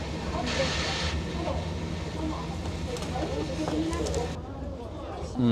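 Inside a moving train in China, a continuous low rumble and airy hiss of the carriage running along the rails, steady throughout with faint clatter, and someone talking over it.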